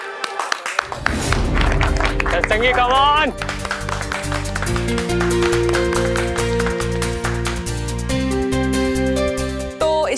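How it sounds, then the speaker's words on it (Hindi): Studio audience of a Hindi television comedy show clapping under background music, with a voice speaking briefly over it near the start, followed by a steady rhythmic beat. "जोरदार तालियां इनके लिए।"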